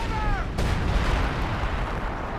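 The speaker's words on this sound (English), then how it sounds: "Calling the artillery," An artillery barrage fires in the real-time strategy game Company of Heroes 2, with a sharp close boom followed by a rolling, rumbling wash of distant impacts and battle noise.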